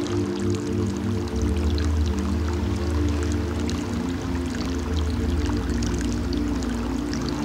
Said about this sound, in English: Water draining out of these rock pools as the tide heads out.